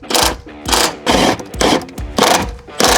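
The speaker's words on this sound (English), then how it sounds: "So now we're just gonna go ahead and tighten the bolts down" Suspension bolts on a daily-driver car are run down with a power tool, making six quick, loud, rattling bursts in an even rhythm about half a second apart.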